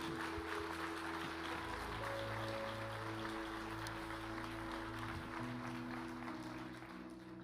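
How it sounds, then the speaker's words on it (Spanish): A church congregation applauding, sustained distant clapping over a steady organ or keyboard chord, fairly quiet and easing off slightly at the end. "Eso merece un aplauso, iglesia."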